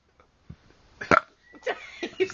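A person belches loudly up close in a short, rough burst, followed by a few smaller throaty gulps and eructations in a quiet setting.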